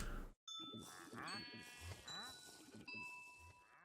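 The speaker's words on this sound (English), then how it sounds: "the chime goes off" Note blocks in a Minecraft clock tower ring out a layered chime of bright, sustained bell-like tones that start after a brief silence, mixed with bleating-like game sounds.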